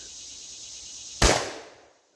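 One sharp outdoor gunshot fired at a bucket target about 30 yards away, a sudden loud crack with a short fading tail, over a faint steady hum of insects.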